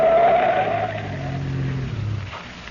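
Car in a radio drama speeding hard and skidding around a curve on a road at night, a loud engine roar with a tire squeal that fades into a lower, steady engine drone.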